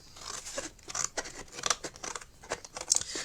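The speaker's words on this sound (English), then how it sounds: "So let's get my grey board back, and I'm going to cut some smaller pieces." Scissors snip through grey board, cutting it into smaller pieces, a close and fairly quiet run of crisp, irregular cuts and crunches with no talking.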